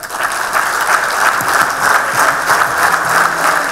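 Steady, dense applause from a seated audience at a science and technology award ceremony, a full room of hands clapping continuously and loudly with no pauses for the whole stretch.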